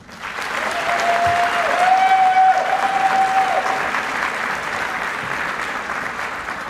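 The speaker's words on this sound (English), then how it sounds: "Let's applaud our distance learning graduates." A commencement audience at Barton Community College's Fort Riley campus applauds distance learning graduates, steady broad clapping that swells and then holds, with a brief whistle or tone sounding over it early on.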